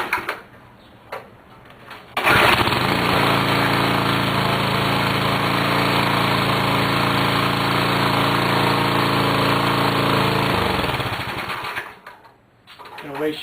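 A small engine on a dumpster-found pressure washer catches on the second pull and runs, with a loud, steady buzzing drone that holds for about eight seconds before winding down, with brief rattles before it starts.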